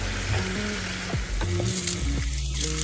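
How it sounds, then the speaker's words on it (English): Wing sauce for Asian-style chicken wings bubbles and sizzles loudly in a hot pan, with a steady crackle broken by a few stirring scrapes and clinks. "So let it come to a boil."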